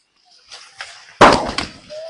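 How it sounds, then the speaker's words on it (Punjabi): Firecrackers go off in the village of Kattu in Punjab: a few faint pops, then one loud, sharp burst followed by crackling that fades out over about half a second. "ਦੇਖੋ ਪਟਾਕੇ ਚੱਲ ਰਹੇ ਨੇ"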